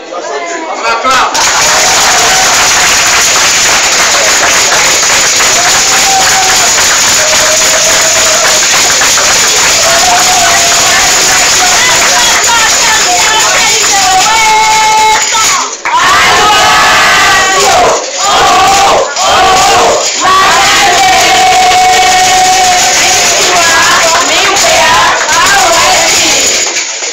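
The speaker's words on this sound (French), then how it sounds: "On acclame." Wedding guests at a traditional ceremony in Abidjan let out a loud, sustained roar of cheers, ululation and shouting, with brief breaks and renewed bursts toward the end.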